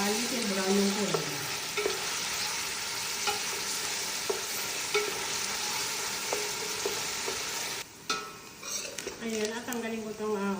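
Onion sautéing in a pan keeps up a constant sizzle, with a spoon scraping and clinking against the metal now and then, close and fairly loud.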